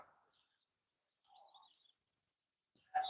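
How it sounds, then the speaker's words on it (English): Birds chirping outdoors in the morning during a walk: a few faint, short chirps spaced apart over near silence, with a louder, sharper call at the very end. "You hear birds? Yeah, they're chirping this morning"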